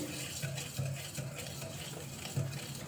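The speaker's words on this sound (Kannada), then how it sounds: "ಚೆನ್ನಾಗಿ ಮಿಕ್ಸ್ ಮಾಡ್ಕೊಳ್ಳೋಣ ಎಗ್ ಬಿಟ್ಟರಲ್ಲಿ" Batter for paddu cakes made with wheat flour being whisked with an egg beater, a quick run of soft rhythmic scraping and tapping strokes against the bowl, close and fairly quiet, with no talking.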